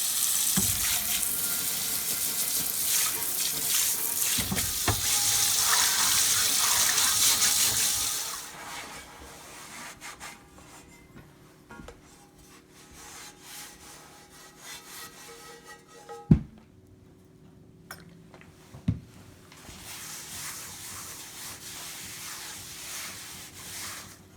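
Water runs steadily from a kitchen sink tap while a cast iron pan is rinsed, then gives way to quieter rubbing and scrubbing with a couple of sharp knocks of the pan against the sink.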